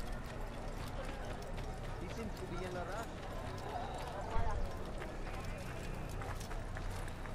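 Rapid galloping horse hoofbeats in Assassin's Creed clop steadily through dense game noise and music, with a brief louder thump midway; a voice talks over much of it.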